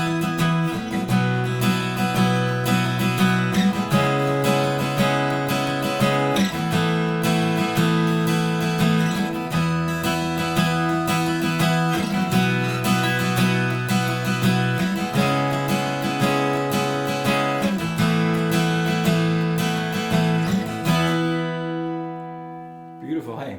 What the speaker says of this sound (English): So if we wanted to play our 1, 5, 6 minor 4 chord progression, it's going to sound like this.